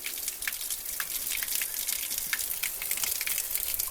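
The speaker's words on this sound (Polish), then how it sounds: "To są wody źródlane, mineralne." Mineral spring water flows steadily from a source in the Bulgarian Rhodope mountains, a close, continuous splashing gush with no talk.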